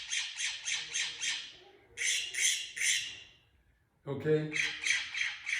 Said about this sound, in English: The next bird is a California scrub jay. And you'll hear this guy squawk